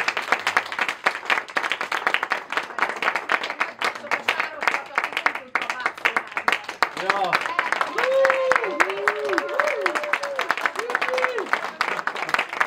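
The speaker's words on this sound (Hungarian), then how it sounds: "nagy tapsot neki!" Audience applause fills the hall, many hands clapping in a dense, continuous patter, while voices and a sung or sustained melodic tone rise over it midway, mixing with the clapping until the end.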